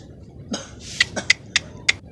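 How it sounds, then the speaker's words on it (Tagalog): A series of short, sharp coughs from a man, about five or six in irregular succession, close and fairly loud in a quiet room. "Ubo daw ubo. Iubo daw mayo, iubo."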